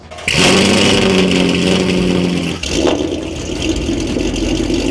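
A loud Ford Mustang GT engine with a Corsa exhaust starts and revs with a deep, throaty exhaust rumble, then settles into a steady rough idle close by.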